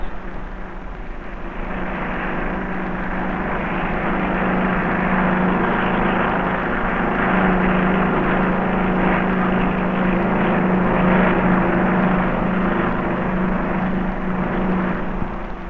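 Helicopters from the aircraft carrier HMS Victorious flying during flood relief over villages and fields along the Subaki River, a steady, loud engine and rotor drone with a low hum that holds throughout, unbroken by voices.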